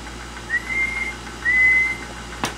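Two steady whistled tones, each held about half a second, whistled into the microphone of a Tram D201 40-channel CB radio, followed by a brief sharp click; thin and slightly distant, with no voices.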